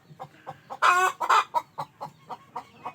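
Darag native chickens, a rooster and a hen, squabble at close range with a rapid series of clucks and a loud, harsh burst of squawking in the middle, the clucking carrying on after the burst.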